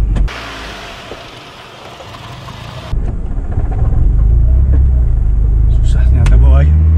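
A 1992 Honda Civic Estilo runs with a low engine rumble that swells louder partway through as it pulls away, with road noise underneath and people talking over it inside the car.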